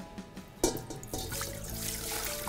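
Extracted pepper juice being poured while making pepper jelly, a continuous close liquid splash and trickle that starts with a sharp onset and runs steadily to the end.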